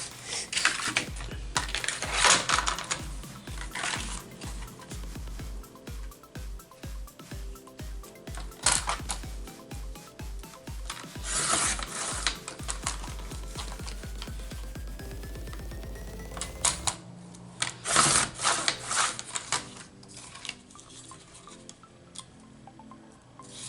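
Scissors cut scrap paper into strips about 1.5 inches wide, a quick run of sharp close snips and crisp rustles, pausing briefly near the end before more handling.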